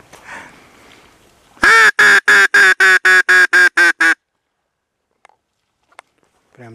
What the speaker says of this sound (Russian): Утка сидела, летела